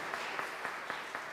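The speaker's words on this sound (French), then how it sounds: "On les applaudit, s'il vous plaît." Brief applause from a congregation at a youth and children's Christmas Mass, thanking the children's leaders: a short burst of crowd clapping with a few distinct claps standing out from the steady patter.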